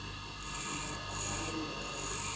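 A twist drill bit is turned slowly with light pressure against a bench grinder to keep its original angle. The grinding gives a continuous harsh rasp that swells and eases in pulses, up close with no talking.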